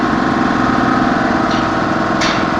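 A steady, loud diesel generator engine drones continuously at a constant pace at an accommodation site, with a couple of brief higher noises.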